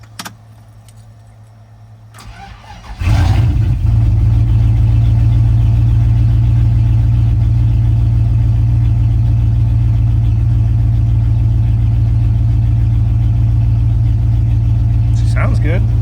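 A 1994-1995 Dodge Ram 1500 engine cranks and catches after a brief jingle of keys, then settles into a loud, steady idle that runs on without a break.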